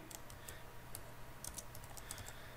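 Enter keys tapped on a computer keyboard during a programming exercise, a few quiet separate clicks over faint background hiss.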